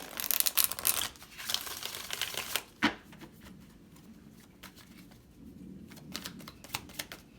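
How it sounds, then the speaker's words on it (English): Dense papery riffling of tarot cards in the first few seconds, ending in a sharp snap, followed by softer handling and quiet rustles. "One more shuffle."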